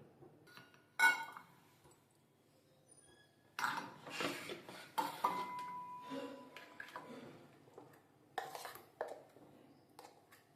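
Lentil chutney for idli is scooped into another bowl, with sparse, close metallic clinks and scrapes of a spoon on steel vessels separated by quiet pauses.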